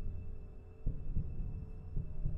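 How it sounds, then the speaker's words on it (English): A heartbeat from the video game Bendy and the Dark Revival, a few low muffled thumps throbbing under a steady droning hum, with no talking. "Oh, nope, I hear the heartbeat."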